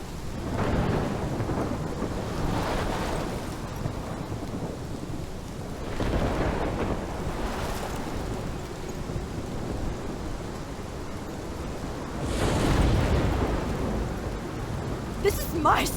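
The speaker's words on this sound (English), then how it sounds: "This is my storm." Thunderstorm in the video game Life is Strange, with steady heavy rain and deep rolling thunder swelling in several broad waves, one loud rumble near the end followed by a sharp crackle.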